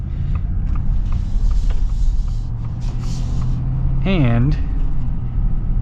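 A lifted 2024 Ford F-350 dually truck drives along with a low, steady engine rumble heard from close by, while someone talks over it.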